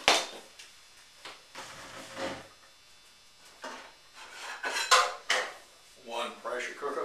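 A metal pressure cooker vessel is handled in a home kitchen while preparing cranberry beans, giving a series of separate clanks, scrapes and rubs at close range with quiet pauses between them.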